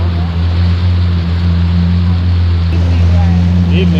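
A Yamaha Waverunner FX jet ski runs steadily along a canal in Florida, its engine droning loud and close with a constant hum, wind and water noise over it.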